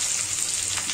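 Capsicum frying in a pan, a brief steady hiss of sizzling oil, close and moderately loud, no speech.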